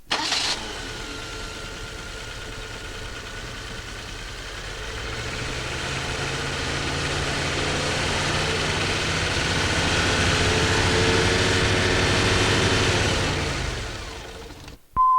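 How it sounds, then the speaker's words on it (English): A car engine cranks and catches, then runs steadily as its speed slowly builds into a louder, higher hum before cutting off, during a charging system check. "Get someone to start the engine and increase the engine speed slowly."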